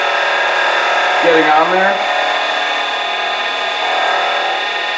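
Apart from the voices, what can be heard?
rubbing carnauba wax onto a pen on a spinning lathe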